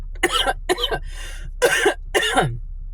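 Several harsh coughs in quick bursts, close and fairly loud, with short pauses between them and a quieter rasping breath in the middle.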